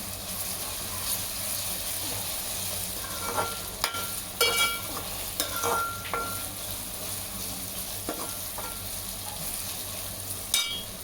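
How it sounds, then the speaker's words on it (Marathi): Ginger garlic paste sizzles steadily in a hot pan for pav bhaji, with the spoon stirring and scraping at intervals over a constant frying hiss. "अद्रक आणि लसूणची पेस्ट परतली गेली आहे."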